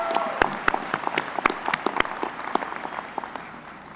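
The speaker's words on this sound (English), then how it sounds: "A round of applause." Audience applause at a Ringling College graduation ceremony, a crowd clapping with sharp individual claps standing out from the mass, strongest at first and gradually tapering off.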